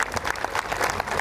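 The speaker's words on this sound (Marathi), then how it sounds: "तिच्यासाठी एकदा जोरदार टाळ्या होत्या" Dense, steady applause from a crowd greeting a guest at a Koli fishing-community celebration for women fishers in Khar Danda Koliwada, continuous and moderately loud throughout.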